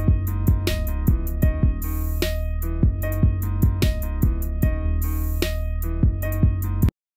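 Beat: loud hip-hop loop with a deep sustained bass, punchy kicks and sharp recurring hits in a steady repeating rhythm, heard alone with no voices until it cuts off abruptly near the end.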